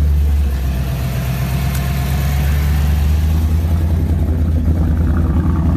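A damaged Ford Mustang GT idles steadily with a deep, low rumble, near and continuous with no revving or talk.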